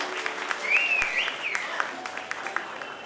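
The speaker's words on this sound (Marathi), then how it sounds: "त्यांच्यासाठी एकदा जोरदार टाळ्या" An audience at a Marathi stage event claps for an honoured guest, a steady, fairly loud wash of clapping that carries on throughout, with a brief whistle rising over it near the start.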